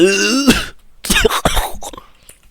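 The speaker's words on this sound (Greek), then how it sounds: "Έχω και βήχα" A person coughs and clears their throat in a short burst indoors during a Minecraft gaming session, with a voiced sound at the start and two or three harsh coughing bursts that follow, close to the microphone.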